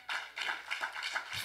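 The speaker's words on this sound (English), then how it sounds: "y'all clapping" A crowd at an MLK Day keynote event claps in rhythmic bursts, the applause rising and falling over a second and a half at moderate volume with no speech over it.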